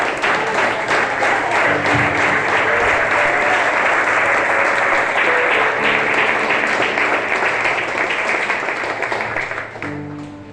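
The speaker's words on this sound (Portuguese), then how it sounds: "Vamos aplaudir o Senhor porque Ele é digno." A church congregation at an evening healing and deliverance worship service applauds loudly and continuously for about ten seconds, a thick roar of clapping with faint voices and tones beneath, tapering off at the end.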